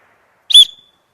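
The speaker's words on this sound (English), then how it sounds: "blowing into a peeless whistle." A pealess emergency whistle gives one loud, shrill blast of about a quarter second that fades quickly. It is heard alone, with no talking around it.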